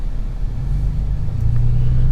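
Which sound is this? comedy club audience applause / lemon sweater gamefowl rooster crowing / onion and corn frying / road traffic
road traffic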